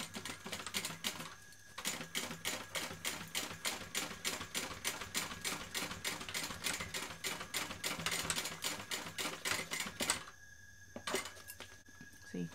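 A sewing machine stitches across the pocket seams of a bag, a close, fast, even run of mechanical clicks that pauses briefly twice and then starts again.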